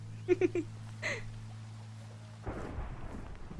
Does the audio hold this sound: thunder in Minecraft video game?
yes